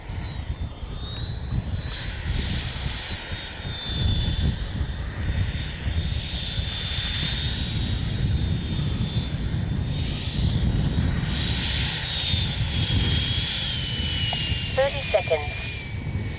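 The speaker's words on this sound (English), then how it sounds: "What a sweet, sweet flying jet." A Freewing 90mm F-22 RC jet flies past with a steady, whining turbine hiss and broad rumble that rises and falls as it passes, fairly close and continuous outdoors, with wind noise mixed in.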